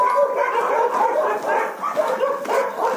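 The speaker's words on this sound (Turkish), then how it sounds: "Kaç köpek var duyuyor musunuz?" Several dogs bark and yip continuously, overlapping one another at a moderate distance, with a busy, layered chorus and no clear pauses.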